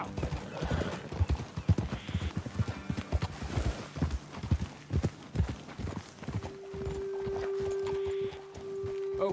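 Horses in the video game Red Dead Redemption 2 trot with rapid, close clip-clop hoofbeats, a whinny breaking in early, before the steps fade into a steady hum.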